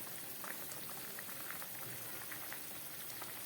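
Fish curry broth at a rolling boil in a pan, a quiet, steady bubbling and popping with a faint hiss, close by and continuous, with no talking.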